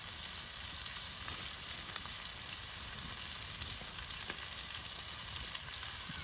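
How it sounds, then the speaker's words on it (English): Peppers frying in a pan on a liquid fuel camping stove outdoors, a steady close sizzle with faint crackles throughout and no talking. "Peppers we're gonna cook down until then the sugars start to release and we get some caramelization on them"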